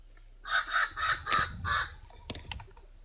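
Several loud, harsh bird calls, crow-like caws in a quick series, followed by a few sharp clicks.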